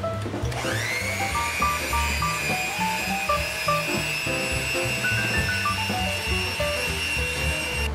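An electric mixer whisks sugar, flour, eggs, lime juice and lime zest for lime bars, a steady motor whine starting just after the beginning and running continuously over faint background music.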